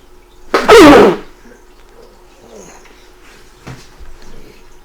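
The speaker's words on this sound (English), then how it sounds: "So I may have to bow out to sneeze. Like I'm about to." A single loud, close sneeze bursts out near the start, followed by quiet room sounds and a faint knock.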